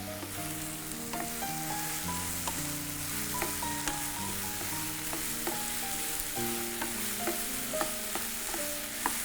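Peeled, finely chopped tender ridge gourd sizzles steadily in a pan, a continuous crackling fry with occasional sharper pops, heard over soft background music.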